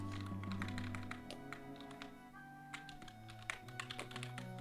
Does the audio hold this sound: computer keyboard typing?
yes